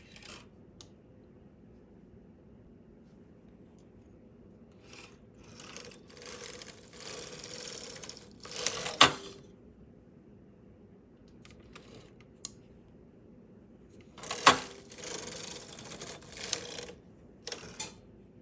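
Knitting machine carriage being pushed back and forth to knit two rows of a fingerless mitten, heard as a few separate rattling, clattering sweeps with quiet pauses between them.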